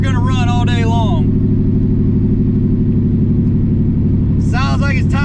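A car engine drones loudly and steadily in a low, pulsing tone, held at a constant high pitch as if pinned against the rev limiter, with voices talking over it at the start and end.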